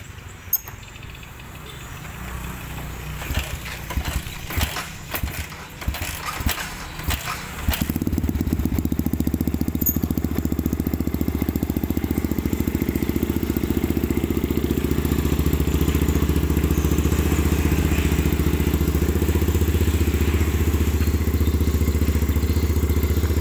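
A modified Yamaha Vixion trail motorcycle starts up after a few seconds of clattering, then its engine runs steadily and loudly up close, with a deep continuous drone that holds to the end.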